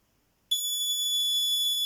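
A 12-volt camping alarm system goes off abruptly after a moment of silence, sounding a loud, piercing, steady electronic tone that holds without a break until the end.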